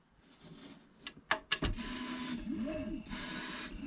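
An xTool D1 Pro laser cutter starts up after a button press: a few sharp clicks and beeps, then a steady mechanical whir with gliding tonal motor sweeps as the head moves, close and fairly loud.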